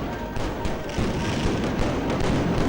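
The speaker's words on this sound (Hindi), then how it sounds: "जगमग इस वक्त अमृतसर का स्वर्ण मंदिर, और वहां हो रही है ये आतिशबाजी" Diwali fireworks at the Golden Temple in Amritsar crackle and thump in repeated bursts over a dense, continuous background of distant booms and crowd noise.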